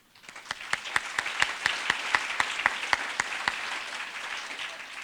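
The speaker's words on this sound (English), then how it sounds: "We're going to give each of these people a cheer" An audience cheers and applauds at the ribbon cutting of the William H. Jervey, Jr. Venice Public Library. Sharp, rapid claps build in quickly and hold as a dense, steady patter, with no talk over them.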